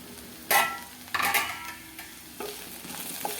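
Okra and garlic frying in a pan while being stirred, giving several scraping, sizzling bursts at uneven intervals over a steady low sizzle, close and clear with no talking.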